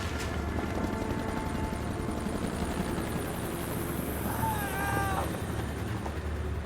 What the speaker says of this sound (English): And the helicopter flew over, you could hear the rotors.